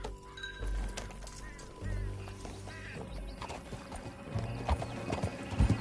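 Rhythmic horse hooves pound along at a steady gallop in Red Dead Redemption 2, with a brief whinny and other game sound effects mixed in.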